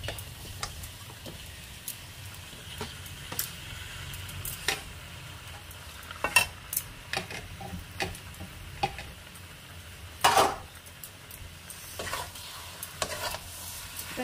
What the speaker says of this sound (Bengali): একটু মিক্স করে নিয়ে মশলাটাকে মাংসের সঙ্গে ভালো করে কষিয়ে নেব।